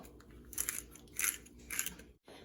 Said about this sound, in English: I'm gonna ground up some pepper.